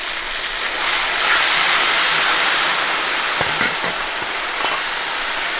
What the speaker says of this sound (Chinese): 来一勺豆瓣酱